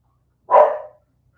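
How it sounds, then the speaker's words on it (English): A single sharp dog bark rings out once, loud and close, then fades quickly into silence. "Poor Lamia, she's trying to get the dogs under control."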